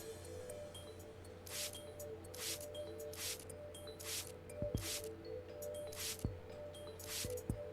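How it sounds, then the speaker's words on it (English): Luminol sprayed in the Apollo Justice Ace Attorney game: a steady run of short, hissy spray bursts about every half second, over a low hum and faint game music. "Then I just press X where I want to spray some luminol"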